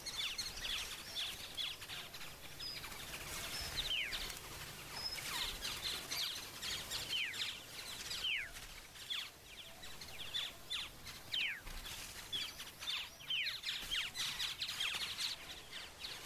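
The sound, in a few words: Australian bird serenade mimicking other birds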